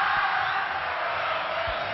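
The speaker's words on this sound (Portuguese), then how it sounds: "Um lance para levantar a torcida do Vasco aqui no Maracanã." A large Vasco football crowd roars at the Maracanã stadium, a dense, sustained wash of cheering voices filling the whole stretch at steady volume.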